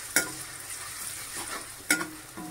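Coarsely pounded garlic paste frying in a pan, a low steady sizzle with two sharp clatters of stirring, alone without talk.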